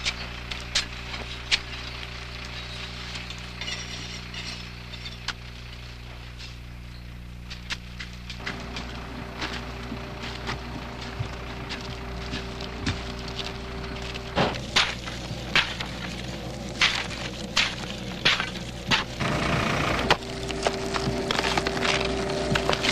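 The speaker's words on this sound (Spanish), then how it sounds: "se procede a la jima, que consiste en deshojar la planta para dejar únicamente la cabeza o corazón del mezcal" Agave leaves being cut away by hand to leave the heart (piña) during the jima harvest for tequila, heard as a steady run of close, sharp woody chops and splintering cracks, with no talking.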